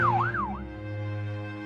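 A cartoon police car pulls up with its siren, a short rising-and-falling wail that quickly settles into a steady droning tone, loud and close.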